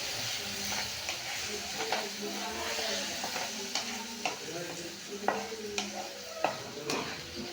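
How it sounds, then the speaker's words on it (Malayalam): Mango pieces for pickle stirred in a hot wok: a steady close sizzle of frying runs throughout, punctuated by irregular scraping and clacking strokes of the spoon against the pan, with no talking. "നമ്മുടെ മാങ്ങ ചീൻചട്ടിയിലേക്ക് ഇട്ട് കൊടുത്തിട്ടുണ്ട്. ഇനി അതൊന്ന് നന്നായിട്ട് ഇളക്കി കൊടുക്കുക"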